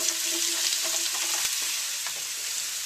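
Onions sizzling in olive oil in a nonstick saute pan, a steady bright frying hiss throughout with faint stirring clatter and a few soft clicks, close and continuous with no talk.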